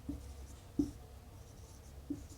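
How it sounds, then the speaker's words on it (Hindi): Chalk or marker writing on a classroom board during a history lesson, faint soft strokes with a few light taps at an even pace, no talk over them. "इसी जॉन मार्शल यहाँ लिख देते हैं अपन"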